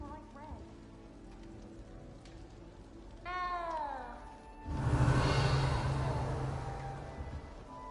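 A cat meows in the Hogwarts Legacy video game, several rising-falling mewls close by, then a burst of rain-like rushing noise swells up and continues.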